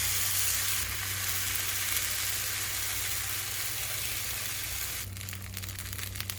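Small rounds of protein-rich batter fry in oil on a pan, giving a constant dense sizzle with a low hum beneath, then a shift to a crackling texture near the end.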